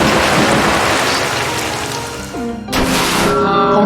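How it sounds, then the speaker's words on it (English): Rain hisses in a dense, loud wash with rumbling crashes, the Storm Rush attack effect in the Manamon video game, broken near the end by a sharp crack and a short tonal game sound. "Carmen San Diego used Storm Rush"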